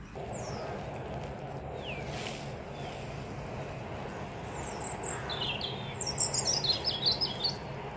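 Birds chirp and tweet over a steady rushing background, with scattered calls early and a brighter burst of rapid twittering near the end.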